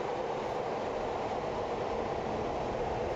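An F-15E Strike Eagle jet engine in the DCS flight simulator spools up, a constant broadband roar that stays loud and even throughout.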